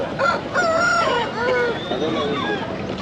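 A fighting rooster crows up close, its drawn-out calls rising and falling over a noisy poultry market background with murmuring voices.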